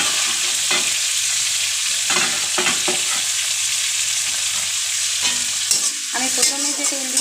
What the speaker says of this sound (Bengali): এবার এই তেলেই আমি দিয়ে দিচ্ছি পেঁয়াজ কুচি